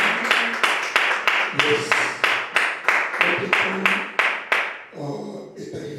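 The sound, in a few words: church congregation applauding God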